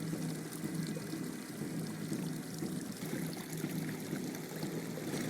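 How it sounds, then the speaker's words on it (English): Boiling river water poured into a pot for cooking an egg, a steady continuous splashing and trickling of liquid lasting throughout, close and fairly loud with no voices. "put it in this pot with some boiling water from the river directly"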